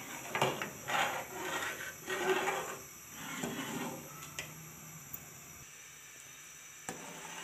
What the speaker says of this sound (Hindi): हम इसमें चम्मच चलाते जाएंगे और साइडों से दूध उतारते जाएंगे।